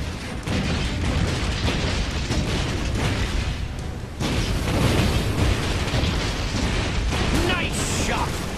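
Pirate ship cannons in Disney Infinity's Pirates of the Caribbean boom heavily in a dense, continuous barrage, loud and close, with the roar of battle filling the whole stretch.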